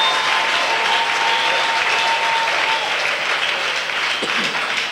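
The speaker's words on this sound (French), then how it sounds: "Ajoutez ton acclamation." A congregation at a prayer service breaks into sustained, loud applause, a dense, continuous clapping that holds steady throughout with faint cheering mixed in.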